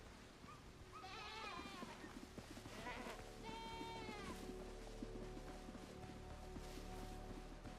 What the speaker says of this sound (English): I'm not sure if I was back-talked or supported by a goat.